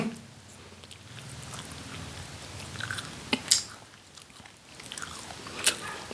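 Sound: chewing rolled cuttlefish snack

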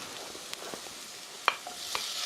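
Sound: shrimp added to stir-frying onions in a pan

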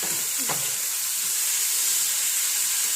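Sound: steam rising from ivy gourd stir-fry in pan

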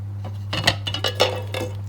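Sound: washing cups and bowls

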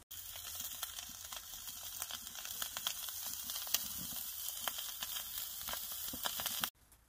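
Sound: wagyu burger patty searing in a hot pan

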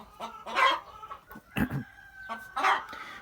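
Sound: hens clucking

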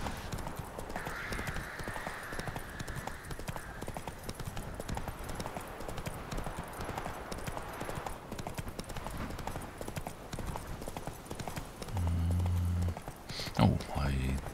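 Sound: horse Roach trotting hooves, The Witcher 3 video game

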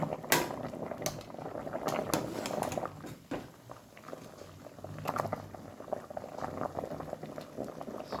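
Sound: cassava boiling in a pot

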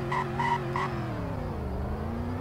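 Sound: car doing a burnout, tires screeching, in Roblox Greenville video game

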